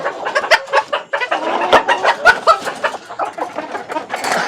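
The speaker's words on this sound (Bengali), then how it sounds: "দেখেন কত বড় জাত মুরগির" Large-breed native chickens kept in cages cluck loudly and continuously up close, a busy overlapping chorus of short calls with no talking.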